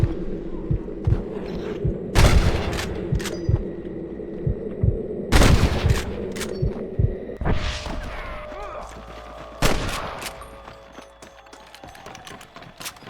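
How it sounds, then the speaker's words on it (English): Scattered gunshots ring out during a shootout in the video game Red Dead Redemption, a few loud isolated cracks over a low humming backdrop with distant pops between them. "Damn fine shooting, boys."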